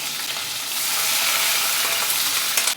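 A finely chopped medium onion hits hot oil already seasoned with cumin seeds and asafoetida in a pan, giving a close, continuous hissing sizzle that swells and stays dense for a few seconds without speech.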